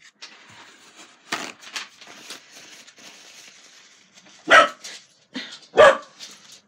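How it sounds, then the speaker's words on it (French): A dog barks twice, loud and close, with a pause between the barks over quiet background shuffling. "Désolée, je suis vraiment désolée pour mon chien."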